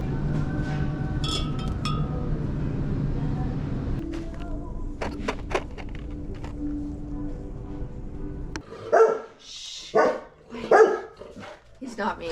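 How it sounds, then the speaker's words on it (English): A large dog barks in a short burst of loud, close barks after a stretch of background noise, during a grocery delivery at a customer's door. "It's a giant dog."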